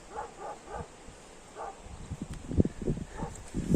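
A village dog barks a few times at a distance from uphill, then closer rustling and yips follow in quick irregular bursts.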